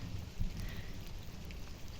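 Steady rain falls with a soft, continuous patter and low rumble, no voices, fairly quiet throughout.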